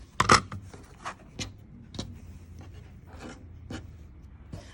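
A Pineapple Trim Tool cuts through fabric in a series of crisp snips and rustles, one sharp cut near the start followed by softer, irregularly spaced cuts and sliding sounds close by.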